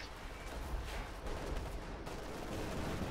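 Artillery barrage in the Company of Heroes 2 video game: dense, continuous rumbling explosions and crackling blasts overlapping at a steady loud level, with no break across the stretch.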